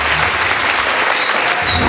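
Congregation clapping steadily during a French-language church service, dense continuous applause filling the space with no pauses.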